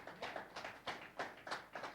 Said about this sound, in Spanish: Si va a aplaudir, hágalo con ganas